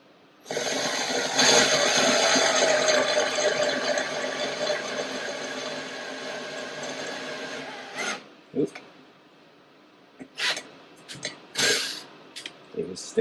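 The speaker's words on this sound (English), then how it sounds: "And then using the bigger drill bit," A bigger drill bit bores through metal with a steady, loud grinding whir for about eight seconds, then cuts off, followed by a few short scraping bursts and knocks.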